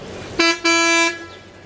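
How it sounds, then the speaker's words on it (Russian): A car horn honks twice up close: a short loud toot, then a longer blast of about half a second that fades out. "Что ты бибикаешь?"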